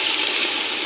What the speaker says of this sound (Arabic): راح اذب عليها المي